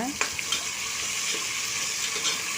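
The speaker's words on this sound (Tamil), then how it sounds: "அதையும் சேர்த்து நல்லா வதக்கலாங்க" Onions, tomatoes and green chillies sautéing for mutton biryani, a broad steady sizzle with a few light stirring knocks, close and continuous throughout, with no one speaking.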